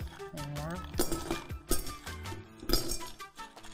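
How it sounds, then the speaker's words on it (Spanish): Ice cubes dropped into a small glass drink jar in a home kitchen, several sharp clinks and knocks in an irregular burst, close, with someone talking over them. "Ya tengo aquí mi vitrolero, mini vitrolero. Le vamos a poner los hielos."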